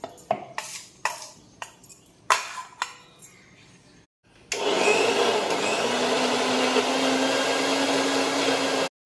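A kitchen mixer grinds spinach into a fine paste, a loud steady whirring roar that runs continuously after a few clinks and taps of the jar and lid being set in place.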